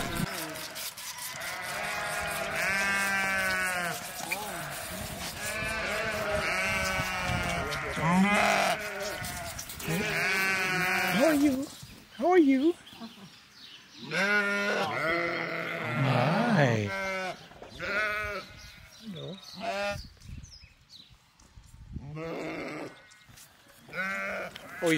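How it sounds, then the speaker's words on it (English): Little lambs bleating repeatedly and loudly up close as they are bottle-fed on a New Zealand farm, with people talking over and between the cries. "to feed the little lambs"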